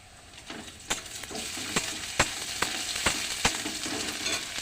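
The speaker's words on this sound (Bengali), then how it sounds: "পেঁয়াজটা এবার ভেজে নেব।" Chopped onions with green chili and garlic paste frying in a pan, a constant close sizzle broken by regular sharp spatula knocks and scrapes.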